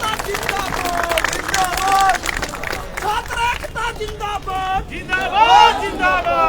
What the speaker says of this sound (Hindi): जोरदार ताली इनका बनता है ना